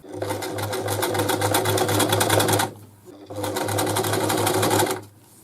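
Brother Boutique 30 sewing machine stitching a narrow zigzag, its steady rapid mechanical whir running in two long bursts separated by a short pause, loud and close.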